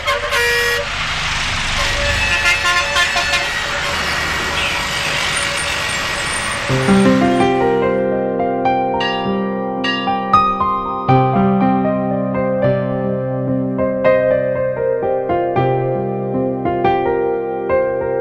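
Road traffic around a bus: a broad rush of engines and passing vehicles, then a run of loud, overlapping horn toots and honks that keep sounding close by, with no clear talk.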